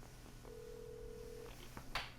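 A single electronic phone tone from the video game Alan Wake sounds for about a second, followed by a few soft clicks and a brief burst of noise, all fairly quiet.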